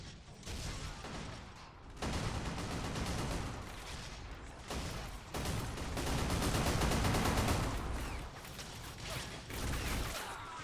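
Heavy bolter gunfire from a Warhammer 40,000 mod of Men of War: Assault Squad, with Chaos Space Marines attacking Imperial Guardsmen at a temple: loud, dense bursts of rapid fire separated by short gaps, like rolling fusillades.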